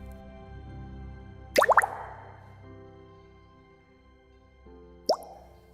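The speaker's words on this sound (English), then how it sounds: "Drip, drip. Tiny drops slid from her sides." A single water drop plinks onto a flower in an animated story, landing as a bright, close plop with a brief rippling patter, followed by another lighter drip a few seconds later over a soft, steady musical background.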